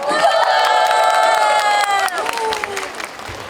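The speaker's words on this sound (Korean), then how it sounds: "박수 쳐주세요" A fan meeting audience for the K-pop group tripleS screams in sustained high-pitched cheers that ring out for two seconds, then break into bursts of clapping and lighter shouts.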